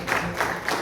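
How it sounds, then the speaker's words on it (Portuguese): A crowd clapping steadily at a church service, the applause fairly loud and continuous with brief swells, sounding like a room full of people. "Vamos aplaudir ao Senhor."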